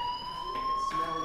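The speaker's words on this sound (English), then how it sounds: "Hey, do you hear that fire alarm? That means you should be outside." An electronic fire alarm in the video game Life is Strange rings with a steady, piercing tone that pulses between two pitches, moderately loud and continuous with no talking over it.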